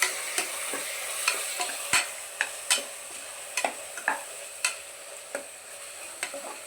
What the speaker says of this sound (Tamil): இப்போது நம்ம வந்து இஞ்சி பூண்டு பேஸ்ட்டு சேர்த்துக்கலாம் ஃப்ரெண்ட்ஸ். நல்லா சேர்த்துட்டு வதக்கிக்கோங்க.